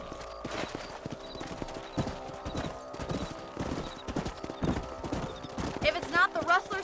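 Horse hooves clip-clop steadily while riding in the Western video game Red Dead Redemption, close and continuous, with a brief whinny near the end and other game sounds underneath.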